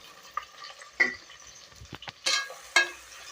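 Chopped onions go into hot oil with green chillies in a cooker pot for mint pulao, giving several short bursts of sizzling and stirring scrapes separated by quiet gaps.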